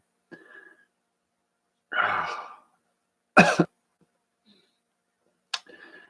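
Several separate coughs come close up, each a short harsh burst with quiet pauses between.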